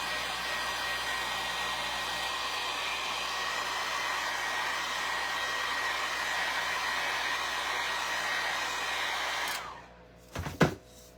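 A hair dryer blows steadily at close range for about nine seconds while drying a DIY craft piece, then cuts off, leaving a couple of soft handling thumps.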